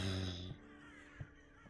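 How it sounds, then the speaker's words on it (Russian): Crows caw in the Gray Dawn video game, a few hoarse calls at a moderate distance over a steady, droning ambient background. "Вороны."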